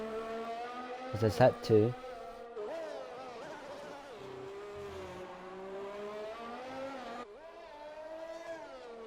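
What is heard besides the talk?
race cars warming up their tires on track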